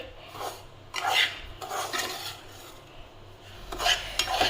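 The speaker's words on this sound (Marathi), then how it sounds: "आता कमी गॅसवरती रवा आधी भाजून घेते" Semolina roasting in ghee in a pan over low heat gives soft, repeated scraping and rasping strokes as it is stirred, close and fairly quiet, with no talk.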